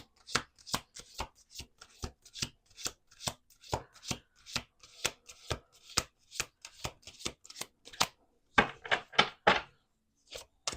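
Close, steady rhythm of playing cards being shuffled, sharp riffles and taps in quick succession, ending with a denser flurry of snaps.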